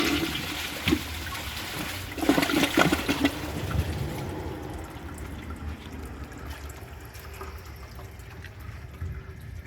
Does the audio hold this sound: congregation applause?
no